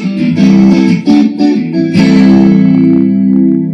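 A guitar chord played through a digital effects unit rings out twice, distorted and heavily reverberant, with the second strum sustaining and slowly fading.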